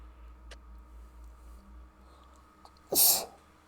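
A single sharp sneeze, loud and close, bursting out near the end after a few seconds of quiet room hum with faint ticks.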